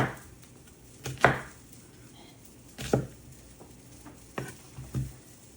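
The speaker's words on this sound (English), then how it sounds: "we're just going to rough chop the onion" Onion being rough-chopped with a knife on a cutting board for jambalaya, several separate sharp thuds spaced unevenly with quiet gaps between them, close and distinct with no voices.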